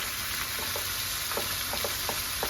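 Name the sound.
tomato paste sizzling in a pan with short ribs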